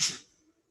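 A single short sneeze from a participant in an online yoga class, a sharp hissing burst that fades within a fraction of a second.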